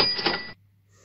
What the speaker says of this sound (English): eBay has this notification bell on it.